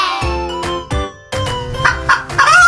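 Chickens cluck and squawk in a series of short, close calls, growing busier toward the end.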